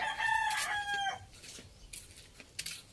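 A fighting rooster crows loudly nearby in one long call, followed by scattered clucks and soft farmyard noises.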